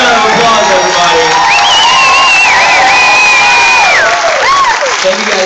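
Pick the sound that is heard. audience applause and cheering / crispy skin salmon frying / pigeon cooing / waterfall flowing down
audience applause and cheering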